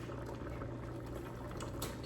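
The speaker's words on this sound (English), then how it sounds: "Add a little bit of water" Water poured into a cooking pot of potatoes and other ingredients, a faint continuous bubbling, trickling wash that stays steady throughout.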